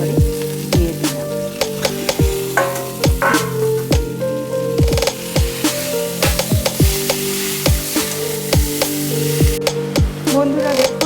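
Vegetables, drumstick stalks, bitter gourd, lentil dumplings and fried spices for Bengali shukto sizzling in a pan, with continuous frying hiss and repeated sharp clinks of a spoon stirring against the pan.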